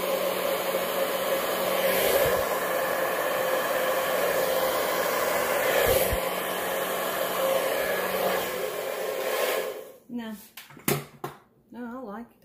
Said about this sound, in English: I'm gonna blow dryer.